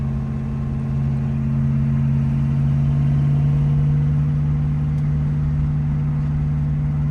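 An old high school car with no hood drones loudly while driving, a steady, heavy low hum that stays constant for the whole stretch with no voices over it.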